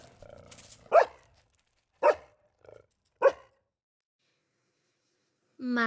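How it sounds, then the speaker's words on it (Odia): A dog barks three sharp, separate times about a second apart, with a small yip between, close and clear against quiet, followed by a brief tonal sound. "ଗୋଟେ କୁକୁର ଆସି ଛୁଆ କୁକୁଡ଼ାକୁ ଅନେଇକି ଭୋକୁଥାଏ"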